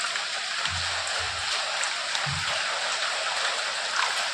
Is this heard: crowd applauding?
no